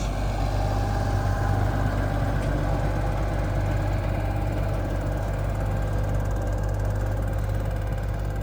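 A steady, droning tractor engine rumble, driving through snow without front-wheel drive, runs continuously and close by, low and even throughout, with no voices.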